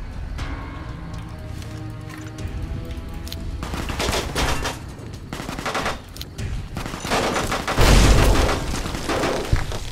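A frag mine explodes in Fallout New Vegas during a dense firefight, its heavy boom landing near the end amid steady rattling gunfire and loud combat noise throughout.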